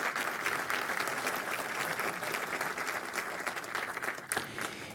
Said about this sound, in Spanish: Un aplauso para todos quienes aquí se encuentran presentes.